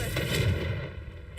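In the Hogwarts Legacy video game, a Confringo spell bursts with a deep, rumbling blast that fades over about a second, ending in a brief crackle.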